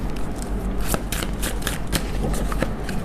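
Tarot cards being shuffled for a reading: a steady run of crisp riffling and flicking bursts, close and moderately loud, with irregular sharp snaps over soft background hiss and no talk.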